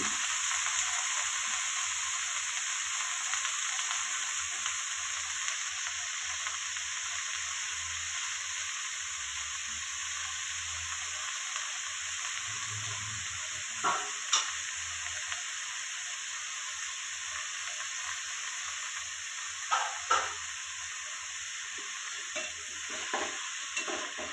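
Red spinach fries in a pan with a steady, moderately loud hiss and sizzle, broken by a few brief spoon scrapes and taps as it is stirred.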